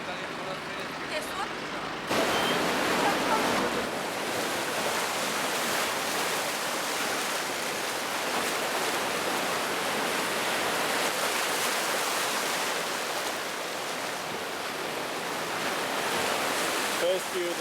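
Adriatic sea waves at Cervia, Italy, make a steady broadband wash of surf that continues without break, loud and even throughout.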